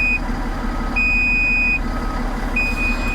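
Intermittent high-pitched warning beeps from an HM300 articulated dump truck building air pressure, two long steady tones sounding over a constant low diesel idle rumble.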